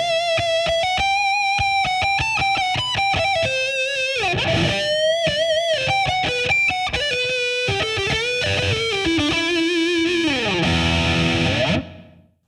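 A distorted electric guitar plays a solo alone, loud and close, with sustained bends and quick runs, drenched in effects including chorus hall reverb, before cutting off abruptly at the end.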